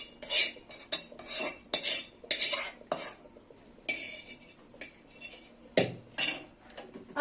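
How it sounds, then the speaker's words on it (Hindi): Hot tadka poured from a metal pan into a pressure cooker of beef trotters (paya) in a home kitchen: repeated close, bright metallic clinks and scrapes of a spoon against cookware, with a brief soft sizzle. "अब हम इसे प्रेशर कुकर में डालते हैं।"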